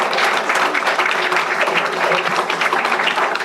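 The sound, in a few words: audience applause at ceremony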